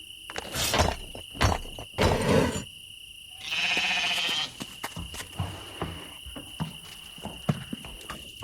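Sheep bleat in a puzzle adventure game, Lost Lands 9: a clear wavering bleat in the middle stands out among crisp game effects and a steady insect-like hum.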